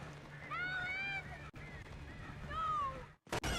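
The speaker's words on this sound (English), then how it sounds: "All the birds." Birds in the Alan Wake Remastered video game, heard as repeated honking, goose-like calls in two loud bursts over a low steady hum, with a short gap between them and a harsh crackle at the end.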